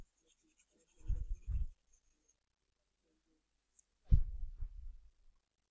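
Pen writing on paper while working a math problem: two short scratchy bursts of strokes, a pause, then another quick flurry, close and quiet with no talk.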